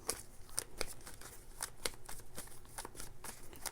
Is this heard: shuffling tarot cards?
yes